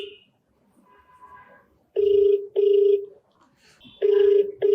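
A telephone rings in repeated loud electronic bursts, three clear double rings spaced about a second apart, with faint quieter sounds in the gaps between them.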